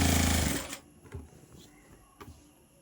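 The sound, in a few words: sewing machine stitching folded fabric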